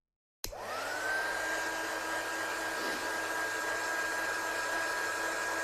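An embossing heat tool switches on abruptly and blows a steady, loud whirring hiss with a high whine as it heat-sets embossing powder, running continuously close by.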